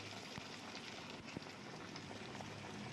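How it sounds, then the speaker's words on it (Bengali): Vetki fish fillets deep-frying in a pan of hot oil, a steady faint bubbling hiss with soft crackles running throughout. "এবার আমি ভেজে নিচ্ছি একটা একটা করে পুরো ডুবো তেলে ভাজতে হবে"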